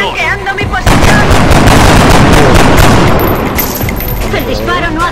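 Loud bursts of rapid automatic gunfire in the video game XCOM fill the middle, with booming shots and sharp cracks around them.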